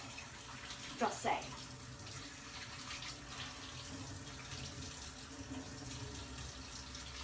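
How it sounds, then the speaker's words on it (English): Tap water runs steadily while soap is rinsed off a euphonium mouthpiece, a continuous splashing flow with a couple of brief clinks, and a voice speaks over it. "If you do not wash all the soap off of your mouthpiece"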